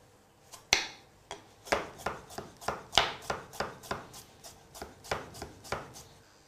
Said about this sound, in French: je viens marquer mes carottes. Je vais les émincer finement.